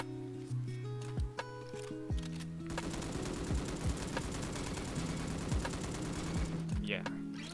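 An M249 light machine gun firing in the Roblox shooter Bad Business, rapid sustained bursts of loud, even-rhythmed automatic fire with short pauses, close and dominant, with a voice talking over it.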